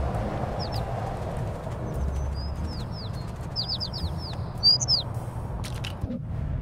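Chirps from a bird in the cat game Little Kitty, Big City, several quick high tweets in scattered bursts over soft background ambience, with a flutter of wings and a few footstep-like taps.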